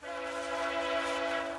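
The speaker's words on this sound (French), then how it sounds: "J'aime beaucoup le bruit du train." Via Rail train horn blaring as it passes a farm near Hudson Bay, one sustained loud chord-like blast holding steady for the whole moment, nearby and alone.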